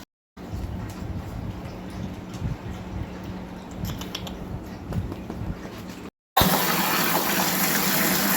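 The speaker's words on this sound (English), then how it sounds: "so we're gonna bring the water hose in" Water gushes steadily from a hose into a canner and an ice chest under low water pressure, a continuous rushing that cuts out briefly and then returns louder and brighter.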